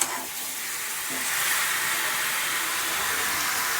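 Mushrooms cook in a pan over steady heat, giving off a continuous soft hiss and sizzle as they release their water. The sound stays even and fairly close, with no voices.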